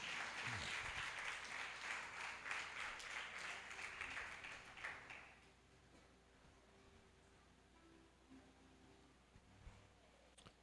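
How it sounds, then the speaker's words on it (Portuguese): Church congregation clapping loudly during a Portuguese-language worship service, a dense burst of applause for about five seconds that fades out, leaving quiet room tone. "Você pode aplaudir bem forte em nome do Senhor?"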